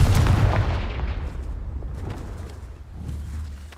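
A Confringo fire-blast spell in Hogwarts Legacy goes off as a heavy boom at the start, then rumbles and fades into a low echoing tail with a faint second thump near the end.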